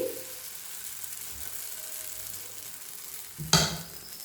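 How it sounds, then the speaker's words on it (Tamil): Thin dosa batter hits a hot griddle with a low, steady sizzle, then a sharper, louder burst of hissing frying rises near the end, close and alone with no talk. "தோசை மெல்லிஸாக ஊற்றிக்கணும்"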